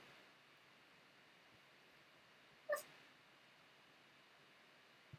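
A puppy named Nova gives one brief, high-pitched whine in an otherwise quiet room, faint and alone against a low background hiss.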